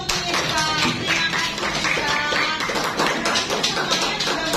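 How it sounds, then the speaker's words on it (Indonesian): A school class applauding a pupil, a loose burst of many hands clapping with uneven, overlapping claps that carries on steadily, close by and fairly loud. "Tepuk tangan untuk Nisa."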